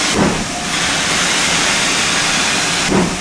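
GWR 7800 class steam locomotive working, with a loud, continuous hiss of steam and engine roar close by, steady throughout with slight chuffing surges near the start and end.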